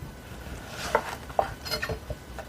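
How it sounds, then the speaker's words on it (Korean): Knife cutting zucchini in half and into half-moons on a board: a few crisp, separate chops and taps on the board, close and fairly quiet. "반으로 가르시고 반달 모양으로 썰어 주세요."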